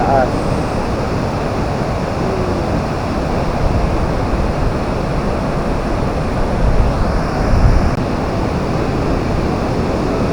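Dense, steady roar of rushing water at a wide waterfall in Surigao del Sur, loud and close with constant broadband wash and slight wind buffeting on the microphone.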